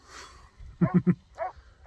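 A farm dog named Pearl gives three quick, close barks in a row and then one more a moment later, fairly faint, out among the sheep at feeding time.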